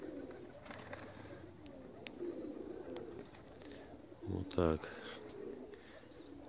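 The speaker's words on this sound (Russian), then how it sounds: "Голубям пора бая-бая спать, а они вот мечутся туда-сюда." Pigeons at a new dovecote at dusk give soft, low coos and a few chirps and wing flaps, fairly faint against outdoor ambience, while someone speaks briefly.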